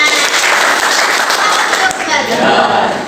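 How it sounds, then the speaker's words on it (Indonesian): A class of students applauds during a civics micro-teaching lesson, dense, continuous clapping close by and loud, with a voice briefly heard over it. "Tepuk tangan untuk kita semua"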